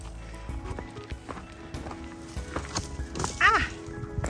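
A goat walks along a hiking trail in Sedona's Fay Canyon, its hooves making irregular clip-clop footsteps close by, with a few scattered steps heard under a person talking to it.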